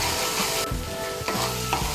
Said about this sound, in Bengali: মিশিয়ে নিয়ে মশলাটাকে ভালো করে কষিয়ে নেব।